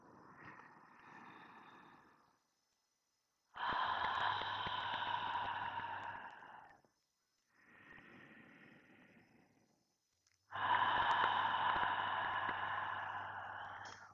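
Slow, deep breaths taken in a guided meditation session: four long, breathy inhale-and-exhale passes alternate between softer and fuller, close to the microphone, with no talking.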